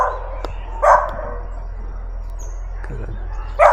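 A small yappy dog barks somewhat far off in Vado Real, Santander, Colombia, two short sharp yaps about three seconds apart over a steady low hum.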